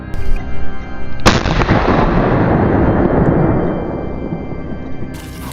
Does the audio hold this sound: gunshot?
yes